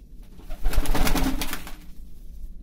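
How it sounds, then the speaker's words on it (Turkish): Several Çorum çıplağı pigeons, a Turkish breed, coo in a coop, a soft, low, throaty burble swelling in the middle over a rustling, noisy background. "Burada 11-12 tane kuş var. İçlerinde bir takım Çorum çıplağı var."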